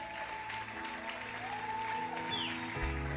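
Church congregation applauding during a Sunday service, a steady even wash of clapping held at a constant level throughout, with a faint tonal whistle sliding across the middle and a low hum entering near the end.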